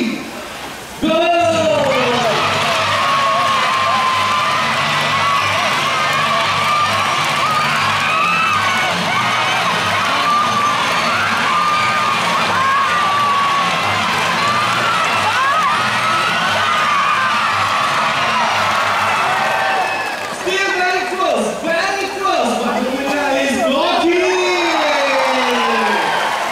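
A large crowd of hockey supporters at a bird park show cheers loudly, a long sustained roar of shouting and whooping with children's voices, dipping briefly near the end before swelling again with more yells.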